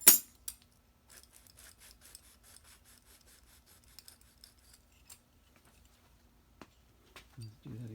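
Metal tool scraping along the hard surface of a Solex carburetor from a 190SL, a series of faint scratchy strokes following one loud initial scrape, close by and with no talking.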